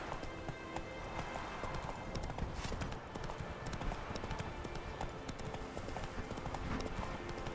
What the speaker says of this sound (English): we'll get back on our trusty horse Roach.